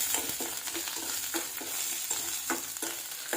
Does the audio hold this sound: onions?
yes